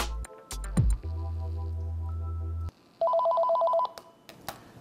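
A telephone rings with an electronic warble, a steady low buzz then a pulsing trilled ring burst, close and clear with clicks between, and no talking.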